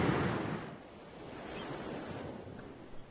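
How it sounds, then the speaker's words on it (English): Pacific Ocean surf on the northern Oregon coast, with a wave crashing loudly at first and then easing into a softer rolling wash with some wind. "Ocean in view."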